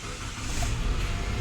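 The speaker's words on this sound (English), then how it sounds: "let us try to switch on the car and see." A 2015 Nissan Note's engine starts up and settles into a steady idle, heard up close as a continuous low rumble with no talking over it.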